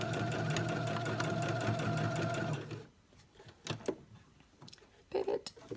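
A sewing machine double stitches along a marked line on a marble maze fabric project, running steadily and loudly at close range for about three seconds, then stopping, leaving faint handling clicks and taps.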